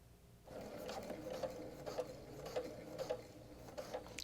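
A sewing machine stitches through the layers of a quilted flying geese zipper pouch, starting after a brief pause and then running as a steady close mechanical whir with a regular ticking pulse.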